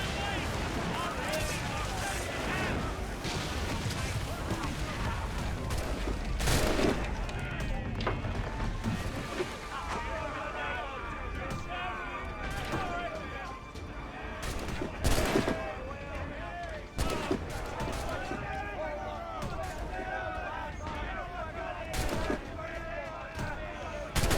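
Gunfire in Assassin's Creed Rogue, with repeated sharp musket and gun cracks in scattered volleys over a busy background, mixed with shouted voices throughout.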